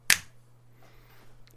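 A single sharp finger snap rings out near and alone at the start, then quickly fades into a quiet room with a low steady hum.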